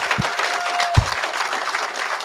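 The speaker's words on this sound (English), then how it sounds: "Give him a big round of applause." An audience at an evening huddle-up event claps in a continuous, moderately loud patter of applause, with a couple of dull low thumps near the start.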